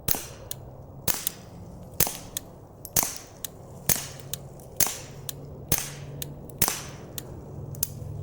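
Sharp suppressed shots from a Beretta 21a Bobcat pistol fitted with a Banish 22 suppressor, about ten evenly spaced cracks roughly one second apart, each with a quick decaying tail, fairly close with no talk.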